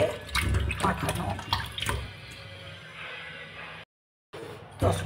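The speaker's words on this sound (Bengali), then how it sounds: "লেবুর রস দিয়ে মাখানো মাছগুলোকে ভালো করে ধুয়ে নিচ্ছি।" Fish coated in lemon juice is washed under a running kitchen tap. Water splashes and gurgles near and fairly loud, with a brief gap before it starts again.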